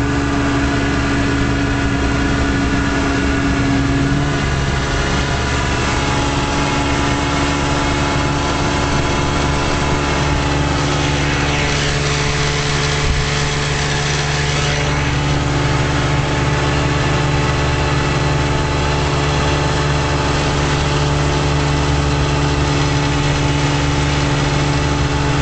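A 1956 Johnson Javelin 30 horsepower outboard motor idles on a 14-foot Viking fiberglass runabout, a steady, close, even putter with a low throb that holds throughout, no one talking.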